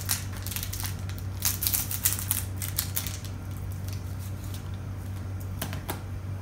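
A pack of 2018 BBM 1st Version baseball cards is torn open and handled, with rapid crinkly foil rustling up close that settles into a few scattered crackles.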